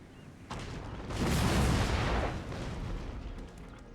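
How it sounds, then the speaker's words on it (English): Howitzers fire in an Empire: Total War battle: a deep, rolling artillery boom swells and rumbles for about a second, then fades into a lower background roar of distant battlefield noise. "Howitzers are now firing as well."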